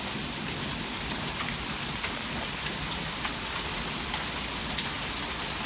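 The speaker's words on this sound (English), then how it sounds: "that is hail" Pea-size hail falling during a strong storm, a dense, steady patter of small hard impacts with a few sharper cracks, continuous throughout and without any voices.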